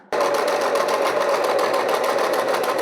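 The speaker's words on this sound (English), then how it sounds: "I'm gonna just stitch along the 2 long edges with, like I said, about a centimetre allowance" A sewing machine stitches linen slipper pieces along their long edges, giving a steady, close, continuous mechanical whir that runs alone without pause.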